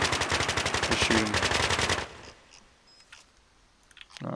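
Automatic gunfire rattles rapidly for about two seconds in the sci-fi strategy game Cepheus Protocol, loud and close, then cuts off into quiet with a faint click or two.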